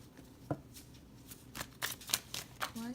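Tarot cards being shuffled during a reading, soft riffling and slapping bursts at irregular intervals, close but quiet.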